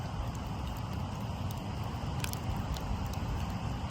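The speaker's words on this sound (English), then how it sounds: "That's obviously a motor vehicle going by." A motor vehicle passes somewhere far down a dark glen at night, heard only as a steady, low, broadband rumble that fills the whole moment with little change in loudness.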